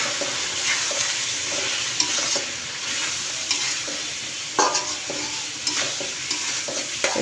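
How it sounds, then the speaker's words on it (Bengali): Chicken pieces fry with biryani masala in a pan, a busy close sizzle broken by repeated scraping and stirring knocks from a spatula, heard alone without talk. "এই যে বিরিয়ানির মশলা দিয়ে এখন আমি একটু কষাবো।"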